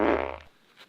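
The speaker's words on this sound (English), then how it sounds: "Did he just fart?" A single close, low, buzzing fart lasts about half a second, then cuts off into near silence.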